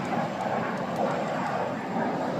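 Two Aero L-29 Delfin jets approaching at an airshow in Airdrie, Alberta, a steady, fairly distant engine roar and rumble holding evenly throughout, with faint crowd ambience and no clear talking.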